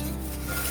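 Freshly popped popcorn stirred inside a pressure cooker, a dense scraping and rattling of kernels against the metal pot, steady and close for under a second with no voice.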